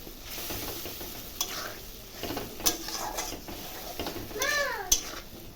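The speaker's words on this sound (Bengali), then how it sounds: "সব উপকরণ দিয়ে ভালো করে মশলা একটু কষাবো" Spice masala frying in a pan while being stirred, with a steady sizzle under repeated scrapes and metallic clinks of the utensil against the pan, all close by.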